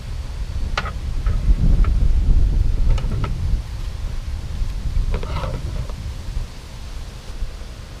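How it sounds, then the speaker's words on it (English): Strong gusty wind buffets the microphone outdoors during bonsai work on a juniper tree, a steady low rumble with rustling and a few faint clicks and handling sounds. "It is very windy out here today."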